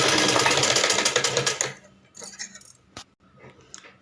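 A sewing machine stitching a blouse runs in a loud, steady whir for about a second and a half, then stops, leaving faint scattered handling clicks and rustles nearby.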